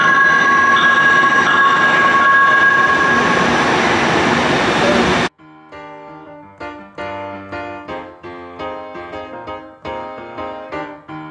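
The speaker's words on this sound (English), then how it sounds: "We're taking the metro downtown this time, so we'll see how that works out." A Minneapolis metro train rumbles loudly with a dense roar of wheels on rails, then the noise cuts off sharply and is replaced by quieter rhythmic musical tones for the rest.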